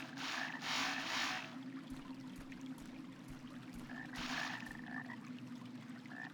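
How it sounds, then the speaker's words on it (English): Repeated frog-like croaking glitch in the game Arx Fatalis, two bursts of raspy croaks over a steady low hum, fairly close and moderately loud, with no talk. "That's like a frog in the water making that sound?"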